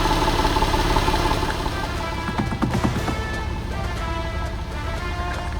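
The engine of a crashed Porsche 911 idles steadily on its first start in over a decade, a continuous close, rough running drone with a faint irregular ticking.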